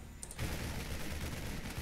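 Marines firing in a StarCraft match, a dense rattling burst of rapid gunfire that starts abruptly after a brief high ping and continues steadily, quiet and without talk.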